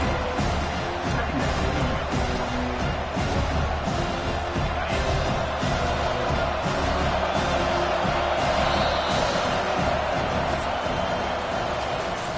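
Steady, dense stadium crowd roar from a College Football 25 Texas game fills the whole stretch, loud and continuous with faint cheering swells and game commentary-style voices mixed underneath.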